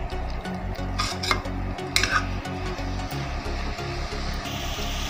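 A carrot dish with sugar being stirred in a pan: a rhythmic run of close metal spoon scrapes and knocks against the pan, with a few sharper clinks.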